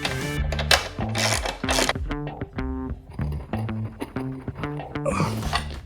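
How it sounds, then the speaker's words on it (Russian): Tightening the axle nut on an enduro motorcycle wheel makes a busy stretch of clicking ratchet and metallic mechanism sounds, steady rhythmic ticks with occasional clinks, close and fairly quiet, without talking. "После этого можно затягивать гайку."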